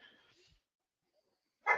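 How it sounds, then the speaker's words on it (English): Dogs give one short, loud bark near the end, after a quiet stretch, with some faint muffled sound at the start. "Oh, shut up, dogs."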